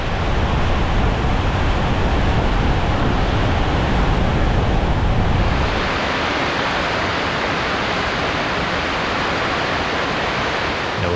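Slavsarica waterfall in Slovenia roaring after rain, a constant heavy rush of falling water, loud and close, easing slightly to a softer steady wash partway through.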